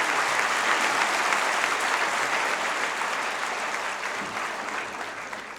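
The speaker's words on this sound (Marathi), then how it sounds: "तुमच्या स्वतःसाठी फक्त जोरदार टाळ्या वाजवा" A crowd at a study circle applauds in dense, continuous clapping that holds steady and then fades slightly toward the end.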